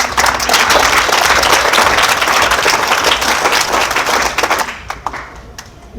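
Loud, dense applause from a village gathering in Haryana celebrating a TB-free award, sustained for several seconds before thinning into a few scattered claps at the end.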